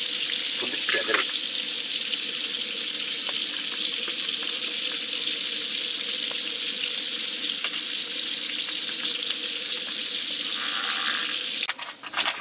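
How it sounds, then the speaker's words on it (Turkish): Dishes washed under steady running water at a lakeside carp-fishing campsite, a continuous loud hiss of flowing water with clinks, alone until it breaks off near the end. "bulaşıkları yıkıyor arkadaşlar"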